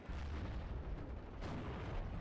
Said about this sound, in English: we are going to have a Flak 41 in the north shelling a two-man rifle squad